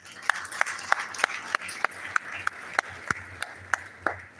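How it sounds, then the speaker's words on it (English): Rhythmic claps sound at a steady, even pace through the whole stretch, moderately loud and fairly close, with faint background murmur, as an audience at a college management and cultural fest inauguration gives a round of applause. "Big round of applause to him and his team."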